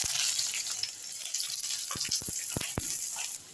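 Chopped onion, two dried chillies and cumin sizzle in hot oil in a pan, a steady close frying hiss with a few sharp crackles and pops near the end.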